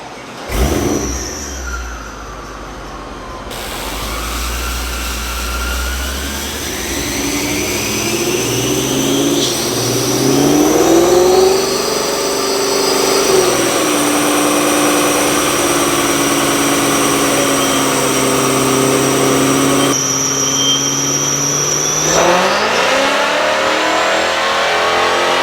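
A straight-piped RennTech Mercedes S65 AMG coupe revs hard on a dyno during a baseline run, its loud V12 rising through long, sweeping gear pulls, then dropping and climbing again before easing off near the end.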